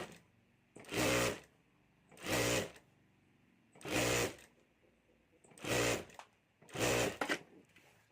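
Sewing machine stitching along the fabric-and-lining border of a handmade jewelry bag, running in five short bursts of about half a second each, separated by pauses, fairly close and alone.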